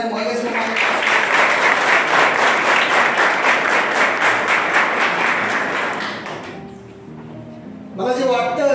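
Audience applause at a school awards ceremony honouring parents, steady dense clapping for about six seconds before fading, then a voice begins speaking.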